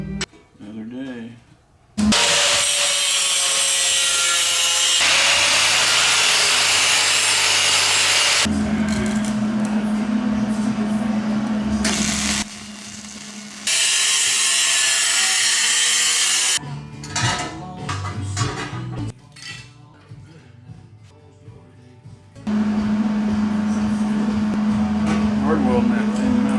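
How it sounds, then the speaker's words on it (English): Thin steel for a Honda Pioneer 700-4 front and rear bumper being MIG welded in several loud sustained bursts of crackling hiss, separated by short pauses, up close in a workshop. "Hard welding that thin metal, man."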